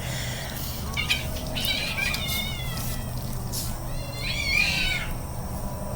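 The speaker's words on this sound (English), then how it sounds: "Kittens, I swear." Several kittens meow close by in high, wavering cries that overlap in bursts, over a steady background hum, with no talking.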